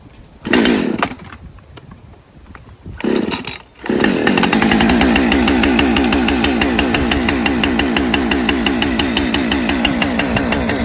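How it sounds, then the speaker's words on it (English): A chainsaw is cold-started with a couple of sharp pull-start bursts and short sputters, then catches and runs on continuously, its loud buzzing engine settling into a steady warm-up idle. "All right, we're treating this saw as if it is a cold start."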